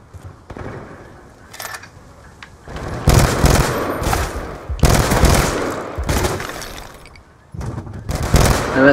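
Rapid bursts of automatic gunfire crackle in Call of Duty Black Ops 2, loud clustered volleys broken by short lulls, with no speech over them.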